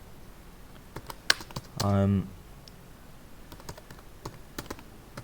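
Keys on a computer keyboard click in scattered, irregular taps while text is typed on a Linux system, with a brief spoken phrase in the middle.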